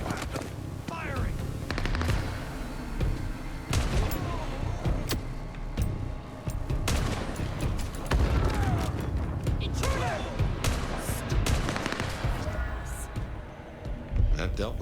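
Gunfire in the video game Vampire: The Masquerade - Bloodlines 2, with sustained bursts of shots under a dense, loud mix of game effects and voices.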